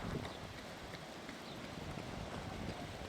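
Rain falling during a moderate thunderstorm with strong gusts in Isère, a steady dense hiss close to the microphone, mixed with low wind rumble and buffeting, continuous throughout with no talking.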